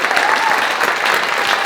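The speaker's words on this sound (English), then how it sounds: "let's give a round of applause for Jay for organizing the Black Hills Shoot" An audience at a gathering for the Black Hills Photo Shootout photography event claps in a steady, dense round of applause, close and even in loudness throughout the short burst.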